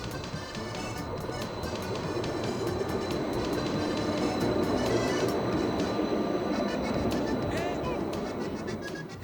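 Steady rumble and clatter of a hill-climbing tram riding on rails in Linz, with rhythmic clicks of wheels and a faint squeal, continuous throughout.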